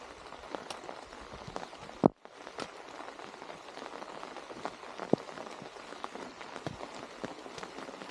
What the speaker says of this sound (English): It's been raining since this morning.